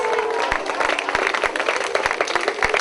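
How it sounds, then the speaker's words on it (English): Audience at a magic show claps steadily through a short round of applause, dense and fairly close, with a voice partly under it. "Give a round of applause."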